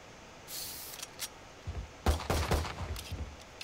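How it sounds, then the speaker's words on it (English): A turret fires in a tactical shooter video game, producing a burst of rapid gunfire that starts faintly, then hits hard and dense in the second half at close range, with no talking. "That's a turret."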